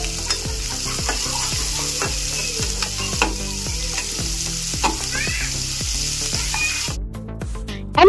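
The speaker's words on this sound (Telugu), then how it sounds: "మనం సన్నగా కట్ చేసి పెట్టుకున్న ఒక 1 కప్ ఆనియన్స్ అయితే వేసుకోవాలి." Sliced onions hit hot oil with whole garam masala spices in a pan, a steady close sizzle with rhythmic scraping stirs every half second or so, ending with a brief louder burst.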